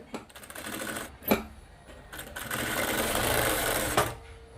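A sewing machine stitching a dress sleeve runs in two bursts of rapid mechanical whirring, separated by short pauses and sharp clicks, close and loud with no talk.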